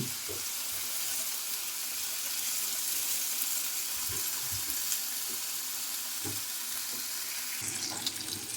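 Prawns frying in oil in a pan, a continuous close sizzle with occasional low knocks from the pan.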